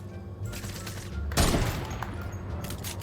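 Gunfire in the video game Fortnite: a dense burst of rapid shots erupts mid-clip, loud and close, over a steady background of game ambience with no talk.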